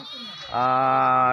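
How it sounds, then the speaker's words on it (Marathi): A sheep from a flock brought to water bleats loudly and close by, a long wavering cry that swells midway and holds steady to the end, with a softer bleat just before. "बाडोमामाच्या मेंढ्या पाण्यासाठी"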